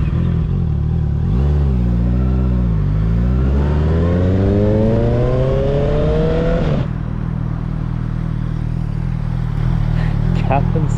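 A motorcycle approaches on the Great Ocean Road, its engine note rising in pitch as it revs up through the gears, then cutting to a steadier rumble as it passes close by. Loud throughout.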